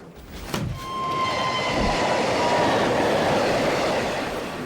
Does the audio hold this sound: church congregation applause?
no